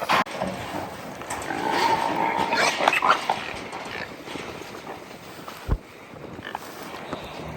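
Pigs being driven into a trailer at a farm give a dense, agitated mix of grunts and squeals, with hoof scuffing, metal clanks and a sharp knock, moderately close and continuous throughout.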